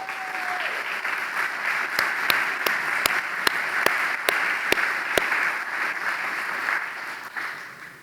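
Sustained applause from a seated audience at a leadership conference session honoring a past president's gubernatorial appointment; dense, even clapping fills the room for eight seconds, with a few sharper nearby claps standing out.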